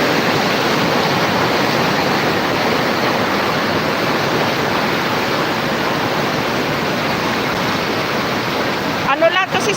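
Strong floodwater rushes loudly during heavy rain, a dense, steady roar that fills the whole stretch; a brief rustling noise intrudes near the end.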